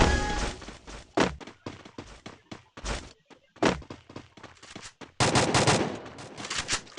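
Gunfire in the Counter-Strike video game: rapid bursts of sharp shots and a double shot, clustered in quick volleys with brief gaps, loud and close, then a denser rattling burst near the end.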